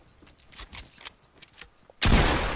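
Gunfire from the Fortnite video game: a scatter of quick, sharp shots and clicks, then a loud, dense burst of firing that fills the final half-second.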